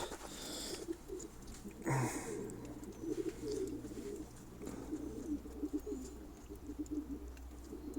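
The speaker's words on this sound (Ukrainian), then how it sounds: "голуб" Low, steady cooing of sport pigeons runs throughout, several birds murmuring together at close range, with a few sharper sounds over the top.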